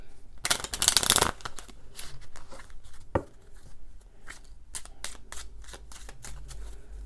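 Lenormand cards being shuffled by hand, a burst of loud riffling near the start, then softer scattered slides, taps and card clicks continuing in a quiet room.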